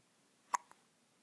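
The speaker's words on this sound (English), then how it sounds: "do you have the hiccups?" A baby hiccups once, short and quiet, and a fainter second catch follows just after it in an otherwise silent room.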